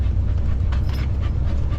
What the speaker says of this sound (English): The panting always increases.